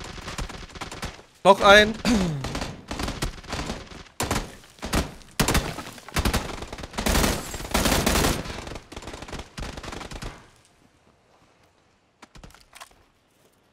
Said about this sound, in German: Schüsse von rechts aufs Haus.